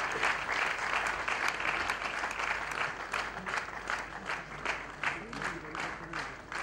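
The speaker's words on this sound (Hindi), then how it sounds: "we should give them a huge round of applause everybody" An audience at a charity fashion show breaks into sustained applause, dense clapping with some distinct sharp claps and crowd noise, continuing at a fairly even level with slight swells.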